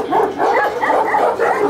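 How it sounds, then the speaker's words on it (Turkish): Kangal dogs in a yard on a large farm bark in quick repeated bursts, loud and close, several deep barks overlapping in a steady rhythm. "Arkada da bir köpeklerle dolu bir bahçe var."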